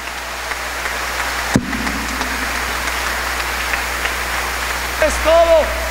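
A congregation applauds for Jesus during an evangelical church service, giving a sustained, dense wash of clapping that sounds almost like steady rain, with a brief voice near the end.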